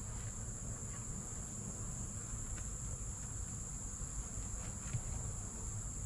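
Honey bees drone in a continuous, even buzz during a bee removal, a dense steady hum that holds at an unchanging level throughout with no voices.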